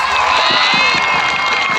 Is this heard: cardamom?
no